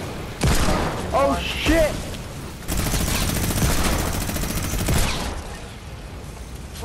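Gunfire in the Fortnite video game, with a sustained stretch of rapid shooting under excited, shouting voices reacting to being hit.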